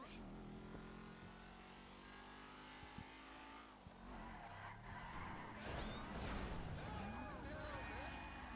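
A car drives through city streets in Grand Theft Auto V, its engine droning and revving with a squeal of tires toward the end, while a voice talks over the game sounds.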